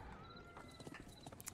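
Horses gallop in the strategy game Thronefall, a quiet, rapid clatter of hoofbeats with a faint whinny, heard alone without talk.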